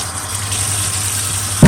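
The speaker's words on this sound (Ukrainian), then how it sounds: "Далі змиваємо теплою водою." Warm tap water streams steadily over cutting boards in a kitchen sink, a continuous close hiss with a low hum underneath, swelling louder with a sudden splash right at the end.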